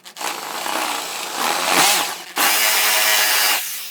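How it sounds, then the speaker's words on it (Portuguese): A power drill fitted with a wide bit bores into wood, a loud whining grind that rises, dips briefly, then resumes strongly before cutting off, close and alone. "Já vou fazer com uma broca larga para que você possa ter como apertar esse parafuso"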